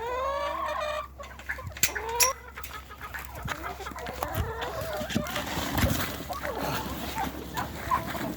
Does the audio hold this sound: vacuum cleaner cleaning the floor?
no